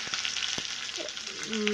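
Mustard seeds, chana dal, curry leaves and a dried red chilli crackle and sizzle in hot tempering oil for coconut chutney, a steady close frying hiss with sharp pops and a brief stir near the end, no talk.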